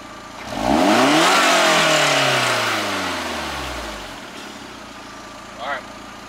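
A car engine is revved once up close, climbing sharply to a loud roar and then winding down slowly toward idle, with a small extra blip near the end.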